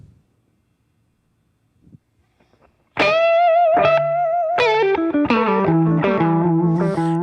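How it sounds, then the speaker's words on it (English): Electric guitar through a delay pedal set to a single repeat: distorted notes and chords start abruptly after near silence, each followed by one echo, played alone and loud, with a sustained tail. "there's only one repeat, so there's not a complicated reverberation thing going on"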